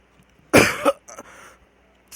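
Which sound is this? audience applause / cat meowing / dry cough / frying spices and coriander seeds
dry cough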